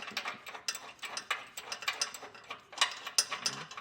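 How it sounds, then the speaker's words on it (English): A bolt being fed and threaded by hand into the frame weld nuts while a trailer hitch is mounted on a 2024 Jeep Wrangler Unlimited, a quiet series of irregular metallic clicks and ratcheting taps, close to the microphone. "feed your bolt through and get this started on those weld nuts"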